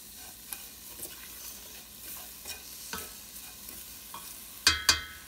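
A spoon stirs condensed milk into vermicelli payasam in a pot on low flame, with faint soft scrapes and a gentle sizzle throughout and two sharper metallic knocks near the end.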